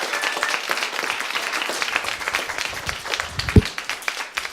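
Steady audience applause and clapping fills a comedy club in New York after a stand-up set, a dense continuous wash with one sharp close clap near the end.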